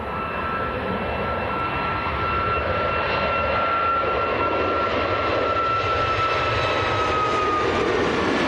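A Smart Links Malta airliner departing Manchester Airport for Dubrovnik, jet engines roaring loud and steady with a faint rising whine running through the rumble, and no voices.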